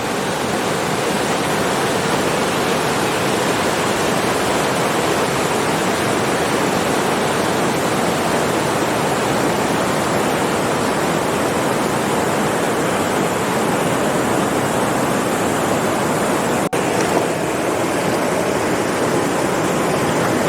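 Rushing water pours over rocks in a big stream at a resort, producing a constant, loud, even roar that holds steady for the whole stretch with no talking.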